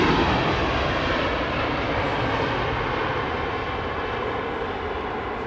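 Airliner at London Heathrow Airport, a continuous loud broadband roar of jet engines that stays steady and close throughout, with no voices.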